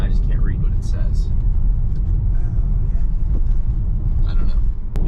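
Tesla Model Y rolling on 19-inch Gemini wheels with new tires, a steady low road rumble and tire drone throughout, with a voice talking faintly over it.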